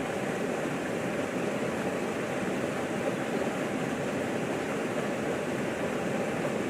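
A small mountain waterfall beside a dipper's nest rushes in a constant, even broadband hiss of falling water, soft and unchanging throughout.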